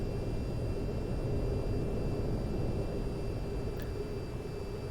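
Steady, continuous jet roar of a VTOL aircraft in the VTOL VR flight game, cruising toward an aerial refueling tanker; the broadband engine rush holds even and loud throughout with no voices.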